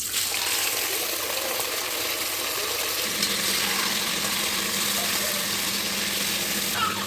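Meat frying in hot liquid oil in a kazan cauldron, a steady loud hiss and sizzle running throughout with watery bubbling, with no voices over it.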